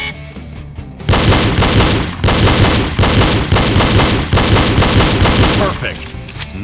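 Pistol shots ring out in a rapid series of loud, sharp cracks during a reload shooting drill, fired in several quick bursts after a brief quiet start.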